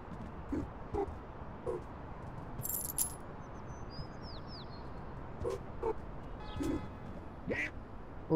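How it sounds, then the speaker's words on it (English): Duck quacking in the video game Little Kitty Big City, a few short quacks spaced out over steady ambient game background, moderately loud. "Look, it's the duck."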